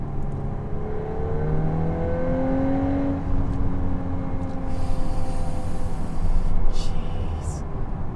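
A Volkswagen Golf 8 R Performance Pack pulls hard on the road, its engine note rising steadily through the gears with a building roar and whir, heard from inside the car without talk.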